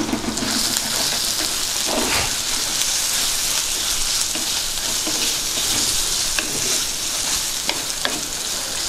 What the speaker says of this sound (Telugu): ఉల్లిపాయ బాగా వేగేంత వరకు ఉడకనిద్దాం.